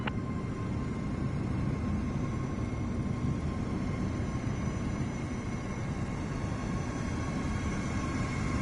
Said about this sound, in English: I got gigantic planes on my ass.